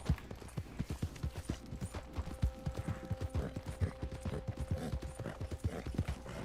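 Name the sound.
Shire horse hooves clip-clopping in the video game Red Dead Online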